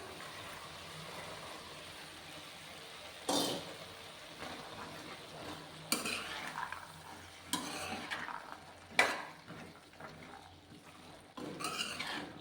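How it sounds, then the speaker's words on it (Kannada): Potatoes and methi leaves frying in a pan, a quiet sizzle broken by several sharp bursts of stirring and scraping at irregular intervals, with no talk. "ಇದನ್ನು ಸ್ವಲ್ಪ ಹೊತ್ತು ಫ್ರೈ ಮಾಡ್ಕೊಳ್ಳೋಣ, 2 ನಿಮಿಷ"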